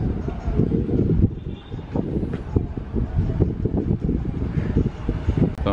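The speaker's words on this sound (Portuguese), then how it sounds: "começou agora uma chuva forte, um vento forte." Heavy rain and strong wind lash a market waterfront in Belém late in the afternoon, a continuous loud rushing roar with gusty buffeting against the microphone.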